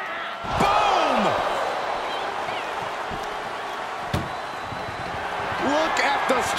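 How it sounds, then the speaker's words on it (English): A heavy ambulance door slams against a wrestler in a wrestling video game, two or three sharp impacts in a busy arena with crowd noise and commentary underneath. "Look at the struggle just to shut that first door."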